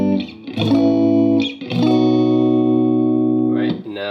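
A guitar pedal on its room reverb setting shapes sustained electric guitar chords, each struck then ringing out with a short, subtle ambience tail, played alone and fairly loud.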